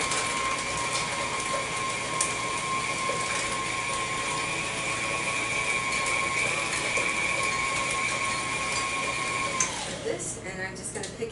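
An electric mixer beats cheesecake batter at a higher speed with a steady, close whirring drone and a high motor whine, running evenly before winding down near the end.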